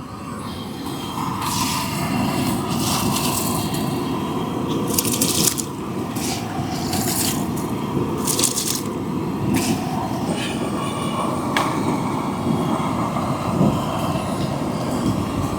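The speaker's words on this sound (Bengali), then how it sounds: "এবার আমি চালটা দিয়ে দেবো।" Washed, soaked rice tipped into a pot of hot water for cooking, making a few splashy, rushing pours in the middle over a constant bubbling, rumbling background.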